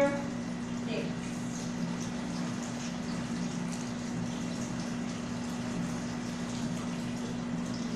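Water runs steadily from a faucet while hands are rinsed from elbow to fingertips during a handwashing routine, a continuous close hiss and splash with no pauses.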